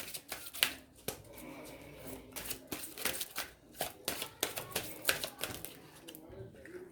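A deck of cards is shuffled with quick riffling bursts and soft flicks as several cards slip and fall out, close and fairly quiet, with a voice speaking in places.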